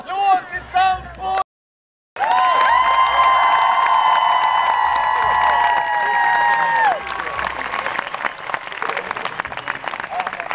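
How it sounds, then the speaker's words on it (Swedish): Audience applause at an auction after a final hammer call, a loud sustained clapping crowd with a voice and some cheering mixed in, briefly cut off before resuming and tapering. "Så sagt, en applåd till Sampo!"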